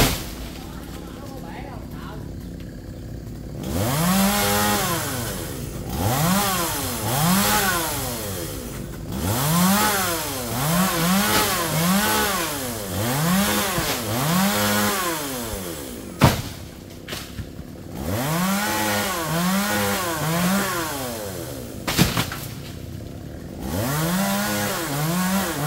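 A chainsaw cuts into a large coconut tree, its engine revving up and dropping back again and again, with sharp knocks between surges and voices talking underneath.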